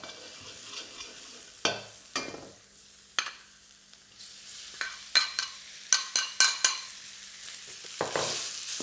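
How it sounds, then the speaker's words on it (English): Pork sears in oil over high heat with ginger, garlic and spring onion, a low steady sizzle broken by sharp scraping stirs and clacks that cluster toward the end, close and without speech. "Add a little bit more oil to sear that pork."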